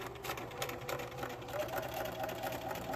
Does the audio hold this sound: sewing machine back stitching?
yes